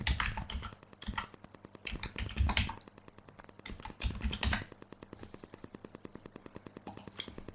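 Computer keyboard typed on in quick, uneven bursts of clicks with brief pauses, close and fairly clear, no talk over it.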